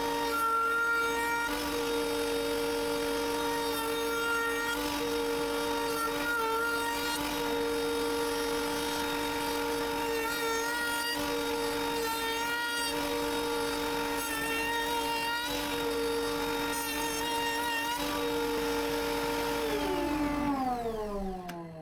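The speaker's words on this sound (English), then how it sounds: "I'm rounding off all the edges with a router, except the edges at the bottom of the knife rack" A router rounds off the edges of a wooden kitchen knife rack, its high whine holding steady and loud for a long stretch before spinning down at the end.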